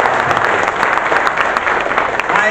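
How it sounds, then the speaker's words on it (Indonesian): Loud, close applause from a crowd at a volunteer coordination meeting in a hotel, many hands clapping steadily throughout. "Tepuk tangan untuk Jawa Timur."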